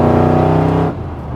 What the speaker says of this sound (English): you just hear this wonderful power plant, the blower, all the noises